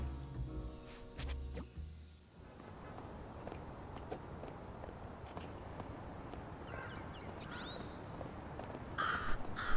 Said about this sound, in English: Time to pay a visit to a certain shiny-obsessed crow.